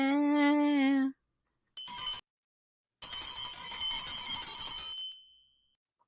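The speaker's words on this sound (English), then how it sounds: "I should have rang my bell. You can ring my bell." A bell rung three times in quick bursts: a first tonal ring, a short sharp second ring, then a longer bright ring that decays away. No talking is heard.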